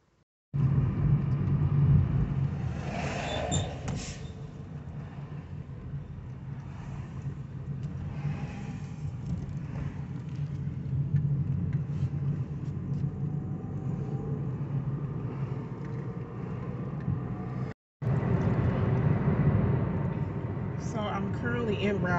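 A car on the road gives a continuous low engine and tire rumble from inside the cabin, with a brief cut near the end. Voices can be heard faintly over it.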